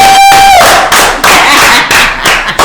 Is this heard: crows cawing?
no